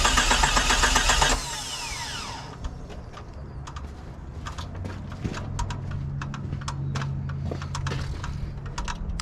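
Jeep engine cranking with the pedal held so it will not start, opening with a loud burst of mechanical noise, then rapid clicking and rattling over a low rumbling motor.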